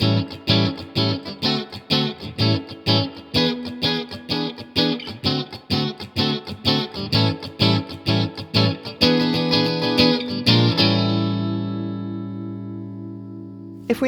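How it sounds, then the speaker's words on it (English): A chunka chunka style blues is strummed on guitar using only dominant 7th chords: loud, even, rhythmic chord chops in a steady shuffle, ending on a long sustained chord that rings out and fades. "here's a quick example of a chunka chunka style blues using all dominant 7ths"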